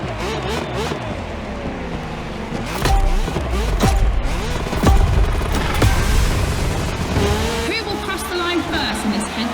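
Roaring rally car engine in the video game The Crew Motorfest, with shifting revs and tire noise on dirt, loud and continuous, rising in intensity midway, like a game soundtrack.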